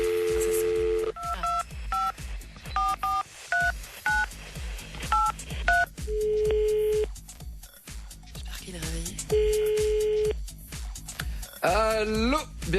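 A telephone number is dialed as a sequence of distinct DTMF beeps, several quick tones in groups, followed by longer steady tones and a warbling signal near the end, with a low background rumble throughout.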